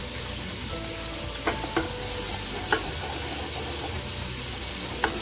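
Barbecue honey sauce with dashes of hot sauce is stirred in a pan over a low, steady sizzle, broken by a few soft clicks and taps of the utensil.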